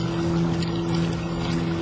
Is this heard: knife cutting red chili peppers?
no